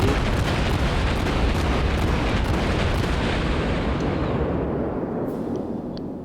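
Dense, continuous roar of heavy cannon fire and explosions in a video game, loud and sustained throughout, easing slightly toward the end.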